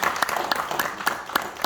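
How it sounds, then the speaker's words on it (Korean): A church congregation at a hospital Sabbath service claps together, a short burst of dense, steady applause with a few sharper claps standing out. "에덴 반 다시 한번 박수 부탁드리겠습니다"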